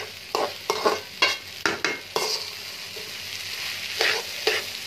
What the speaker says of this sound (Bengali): এখন কিছুক্ষণ ভাজবো আমি। কাঁচামরিচ দিয়ে দিছি সাথে কয়েকটা।